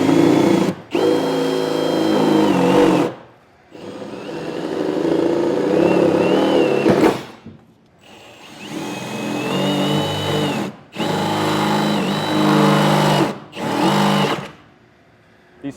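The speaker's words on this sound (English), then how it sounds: "I'm going to use a 9/16 drill bit and get all of our pilot holes" A power drill fitted with a 9/16 inch bit whines through pilot holes in the frame of a 2022 Ford F-250 Super Duty, running in several loud, close bursts of rising and falling pitch separated by short pauses.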